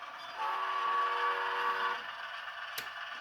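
A model train runs on a home layout and gives a brief whistle or horn tone for about a second and a half, over a soft background of running rumble and clatter.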